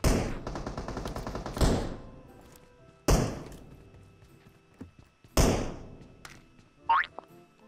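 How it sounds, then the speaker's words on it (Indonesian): Gunfire sounds in the PUBG video game: a rapid burst of automatic shots is followed by several loud single reports, each ringing out before fading, with short pauses between. "Headshot mulu dah tembakannya."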